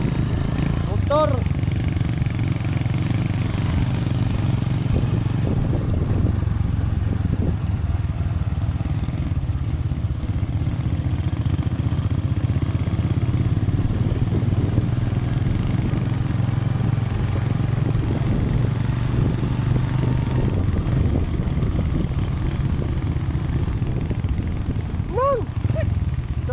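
A motorcycle engine runs continuously at a steady, throbbing idle-like drone, close and constant for the whole stretch, with a faint chirp of birds now and then.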